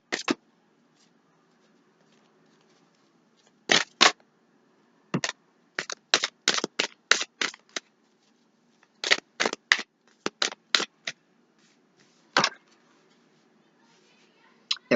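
Tarot cards being shuffled in short, crisp bursts of riffling and flicking, separated by quiet pauses, close by.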